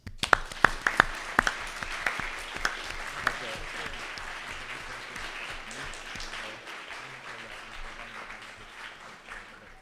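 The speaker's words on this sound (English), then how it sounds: "please give a round of applause to all of yourselves and for your performance" Delegates at a model UN general assembly break into applause, opening with a few sharp individual claps before settling into sustained, dense clapping from a large crowd across the hall.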